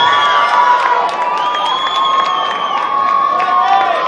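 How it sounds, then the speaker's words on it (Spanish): A crowd at a salsa team dance competition applauds and cheers continuously, with loud shouts and whistles over dense clapping throughout, and an announcer's voice mixed in. "¡Fuerte el aplauso!"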